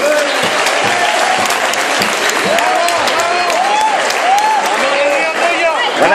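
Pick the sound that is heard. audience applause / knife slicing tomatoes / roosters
audience applause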